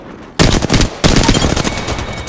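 Rapid automatic gunfire in the Apex Legends video game, two loud close bursts of quick repeated shots separated by a brief gap, the second burst running longer.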